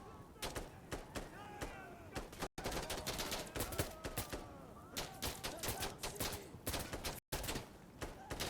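Rapid bursts of automatic gunfire from the video game Insurgency Sandstorm, dense, overlapping shots with a few brief gaps, and voices talking over the shooting.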